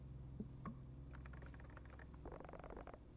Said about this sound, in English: I knew I could hear someone typing.